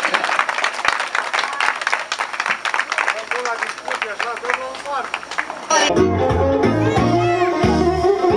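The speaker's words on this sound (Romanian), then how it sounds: "Aplauze, aplauze pentru mine, pentru mereasă." Guests at a Romanian wedding applaud the bride with lively clapping mixed with chatter and voices, then the clapping gives way abruptly to louder music and talk.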